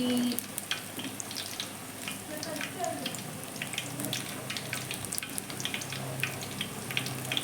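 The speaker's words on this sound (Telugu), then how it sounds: "కొద్దిగా మీడియం ఫ్లేమ్లో పెట్టి ఫ్రై చేసుకోవాలి" Onion and amaranth pakoras fry in oil over a medium flame, giving a dense, steady crackling sizzle with scattered bright pops, close up and continuous throughout.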